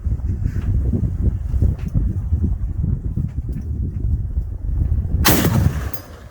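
Heavy gunfire at an outdoor range from an M82A1 rifle or grenade launchers, heard as dull distant booms with rumbling echo and a sharp loud blast near the end, no talking.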